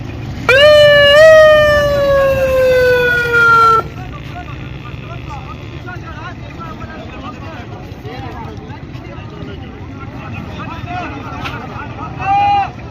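A loud wailing ambulance siren climbs in pitch for a few seconds, then cuts off abruptly, leaving traffic rumble and distant voices.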